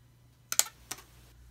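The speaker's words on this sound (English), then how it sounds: "I just use regular old paper punch." A regular paper punch clacks sharply twice in quick succession, then gives a single lighter click, close and crisp against near silence.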